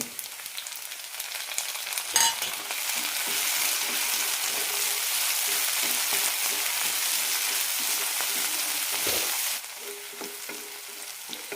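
Chopped tomato added to onions sautéing in a pan for Malayalam-style brinjal masala, a steady loud sizzle with stirring scrapes that swells after the tomato drops in, then briefly quietens near the end.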